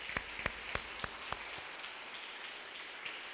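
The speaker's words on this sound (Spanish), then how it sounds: "Yo le daría un aplauso al Señor Jesús por eso" A church congregation claps in a sparse, uneven pattern of distinct handclaps over a soft hiss, fairly faint and distant, thinning out toward the end.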